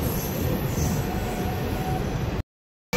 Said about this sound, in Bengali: ট্রেন এসে পৌঁছালো মেচেদা স্টেশনে